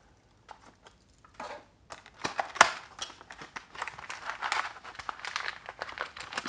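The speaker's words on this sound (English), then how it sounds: "first we're gonna open up the box" A HyperX keycap box is opened up close: papery crinkling, tearing and light tapping of cardboard and packaging come in irregular bursts that grow busier toward the end.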